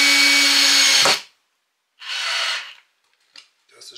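A cordless screwdriver drives a screw into a wooden table, giving one steady high whine that cuts off abruptly, then a short second burst and a few faint clicks, close by with no talk.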